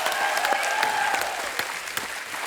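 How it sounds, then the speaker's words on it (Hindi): A studio audience at a comedy talk show applauds enthusiastically, with dense, steady clapping that holds for the whole moment. "जोरदार तालियां हो जाएं।"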